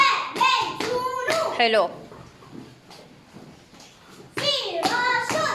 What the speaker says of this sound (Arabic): هيا بالتصفيقة.